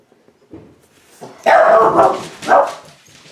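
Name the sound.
dog barking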